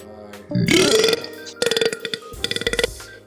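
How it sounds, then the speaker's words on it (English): A slow, drawn-out burp with a rising, gurgling tone, followed by two more rough, pulsing belching bursts, loud and close with no talking. "There's a slow burp."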